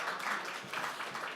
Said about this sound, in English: Everybody applaud the hackathon sponsors, please.